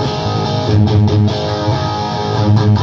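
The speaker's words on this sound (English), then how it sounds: "here's my rhythm crunch sound." Electric guitar playing a rhythm part with a crunchy overdriven tone through an input noise gate, heard as short chugging chords in an uneven rhythm, loud and alone.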